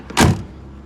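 One of the rear barn doors on a 1997 Chevy Astro van makes a single quick, fairly loud mechanical door sound close by, then quiet background follows.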